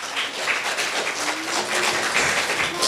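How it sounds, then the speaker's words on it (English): Graduation ceremony crowd applauding the school band, continuous dense clapping at a steady level from start to finish, with a faint voice briefly beneath it. "So let's appreciate them with a round of applause."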